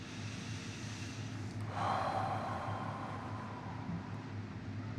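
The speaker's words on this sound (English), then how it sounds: "Let's take some deep breaths in through the nose and out through the mouth." A slow, deep breath drawn in through the nose and let out through the mouth during a guided healing meditation, soft and close over a steady low hum, with no talk.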